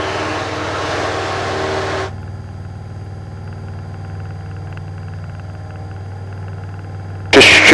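A Cessna 172 Skyhawk's single piston engine drones through its takeoff climb, with a louder rushing roar for the first two seconds that settles into a steady harmonic hum, then a sharp burst of noise right at the end. No one speaks.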